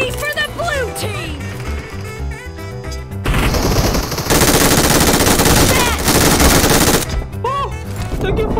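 Loud, dense automatic gunfire from the game PUBG Mobile rattles in long sustained bursts, mixed with game sound effects, with a quieter stretch before and after the heaviest firing.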